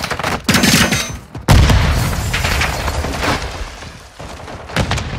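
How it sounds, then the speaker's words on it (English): Grenade blast and gunfire in a first-person shooter video game, with a sharp boom near the start and a heavier explosion around 1.5 seconds, followed by rumbling, scattered shots and crackle. "Grenade out!"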